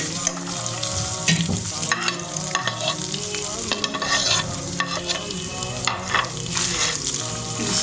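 Boiled chicken frying in ghee in a pan sizzles continuously while a utensil stirs and scrapes it in frequent rhythmic strokes, close up with no talking.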